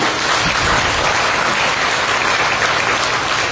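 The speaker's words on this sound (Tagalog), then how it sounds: "Palakpak po para sa Panginoon." A congregation at a live Sunday worship service breaks into sustained, dense applause, an even roar of many hands clapping close and loud throughout.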